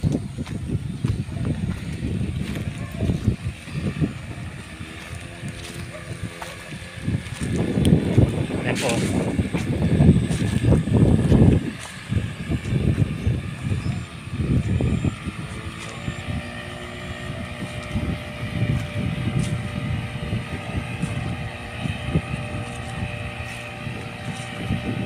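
A jet ski engine drones on a lake at Cavinti, Laguna, rising and falling as it runs across the water, with wind buffeting the microphone and someone talking over it.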